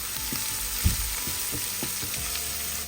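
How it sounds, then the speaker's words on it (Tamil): Chopped garlic, about a tablespoon, tempering in hot oil, with a steady close sizzle and occasional spoon taps and stirring scrapes. "பொடியாக நறுக்குன்னா 1 டேபிள் ஸ்பூன் அளவுக்கு பூண்டு சேர்த்து நம்ம தாளிக்கிறோம்."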